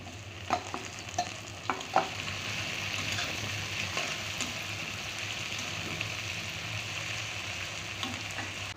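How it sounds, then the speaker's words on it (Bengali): Chopped tomatoes hit browned onions, green chilies and oil in a pan, giving a steady sizzle with several sharp stirring clatters early on, then a softer continuous frying hiss. "পেঁয়াজটা লাল হয়ে গেছে এবারে টমেটো কুচি দিয়ে দিচ্ছি"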